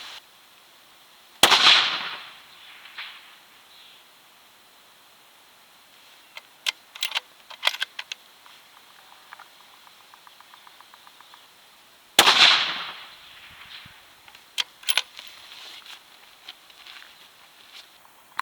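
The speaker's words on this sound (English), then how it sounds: "So I'll assemble the rifle, put a couple of shots in it." A Lithgow LA105 rifle in 6.5 Creedmoor fires two sharp shots at an outdoor range, roughly ten seconds apart. Faint clicks and handling noises fill the quiet between them.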